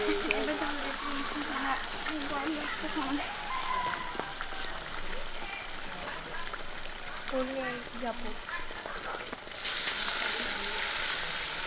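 Fish being fried in oil at a village home: a continuous hissing sizzle heard under people talking.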